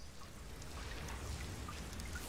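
Steady rain over a perpetually rainy corporate metropolis in a video game trailer, a faint, continuous wash of falling water with soft patters and a low rumbling bed, no voices.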